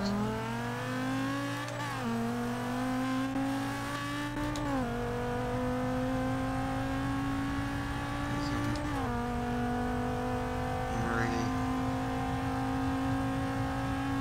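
A matte purple Corvette's engine revs in the racing game Forza 6, a loud, sustained drone whose pitch steps up and drops back with each gear change, running continuously throughout.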